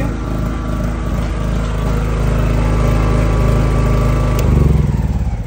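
A 7.5 kVA Petrogen petrol generator runs loud and close after a recoil start, its engine drone steady with a slight swell near the end, no talking.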